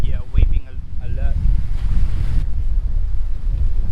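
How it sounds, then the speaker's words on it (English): Strong wind buffets the microphone beside choppy water with waves churning, a loud continuous roar; someone speaks briefly at the start. "It is very windy at the moment."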